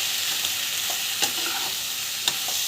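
Raw banana poriyal with spices sautéing in a pan, a bright continuous sizzle with a few sharp stirring scrapes and knocks from the spatula, close and loud, no talking.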